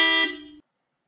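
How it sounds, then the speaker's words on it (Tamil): A modified car horn on a 2025 Maruti Suzuki XL6 gives one short, loud, bright honk lasting about half a second, dropping slightly in pitch before cutting off abruptly into silence. "வண்டியுடைய ஹாரன் சேஞ்ச் பண்ணியிருக்கோம். அதோட சவுண்ட்ஸ் எப்படி இருக்குங்கிறத நீங்க வந்து கேட்கலாம்."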